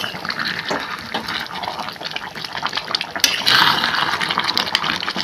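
Water is poured into a cooking pot of jackfruit curry, a steady splashing gush that swells louder toward the end, heard up close without talk.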